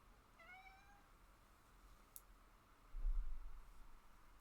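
A cat indoors gives one short, faint meow early on, followed by quiet room tone with a couple of small clicks and a low thud.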